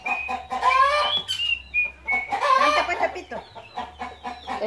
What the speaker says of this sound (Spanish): Es que él está escuchando el gallo para hacer igual.